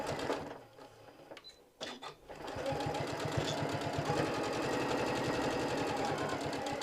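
Sewing machine stitching fabric for a microwavable bowl cozy, a steady rapid mechanical whir with rhythmic needle clatter that starts after a brief pause and runs continuously, close and fairly quiet.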